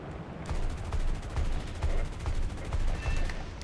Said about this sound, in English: I'm gonna bomb it now.